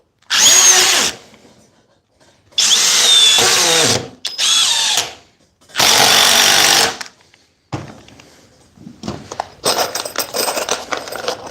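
Cordless battery impact drivers from Dewalt, Milwaukee and FLEX sink 6-inch trim screws in loud, close bursts of rapid hammering whir. Several runs of about a second each stop and restart, followed by shorter, choppier bursts.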